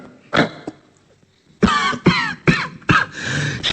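Harsh, throaty coughs in a comic Bengali story reading: a single cough, a pause, then four loud close coughs in quick succession with a rasping throat-clear between them.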